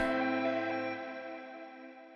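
A single lush Afro house chord rings out with an effected, chorused tone, sustaining and slowly fading over about two seconds on its own.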